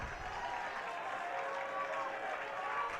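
Baseball fans at a high school sectional game cheering and clapping from the stands, a faint, distant spread of applause and crowd noise with a few raised voices throughout.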